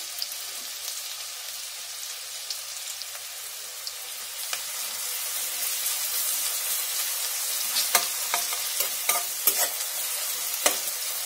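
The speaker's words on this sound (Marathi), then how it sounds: "अद्रक, हिरवी मिरची आणि तुपावरती मस्त खमंग असं परतून घेणार आहोत, ब्राऊन रंग येईपर्यंत परतून घ्यायचे" Onion, garlic, ginger and green chili sautéing in ghee for dal khichdi, a steady close sizzle with scattered sharp crackles and spatters that grow busier toward the end, with no talking.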